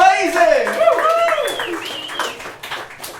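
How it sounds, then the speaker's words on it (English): An open mic audience gives scattered, moderate clapping beneath a voice that talks over it, with the applause thinning out toward the end. "Ladies and gentlemen, a massive round of applause for Katie."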